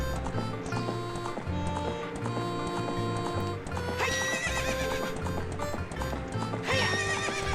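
A horse in the video game Ocarina of Time gallops with rhythmic clip-clop hoofbeats over steady game music, and two loud whinnying neighs stand out partway through.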